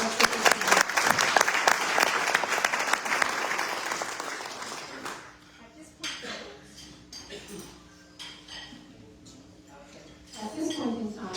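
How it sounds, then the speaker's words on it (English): A Las Vegas Rotary Club weekly meeting audience applauds loudly for about five seconds, then the clapping fades into quieter room noise with scattered clinks of dishes and cutlery and some voices. "a round of applause, please, acknowledging all of the people that did everything to help us"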